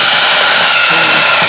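Step drill bit boring a hole through a pedalboard, a continuous loud, rough grinding whir close up with no pauses.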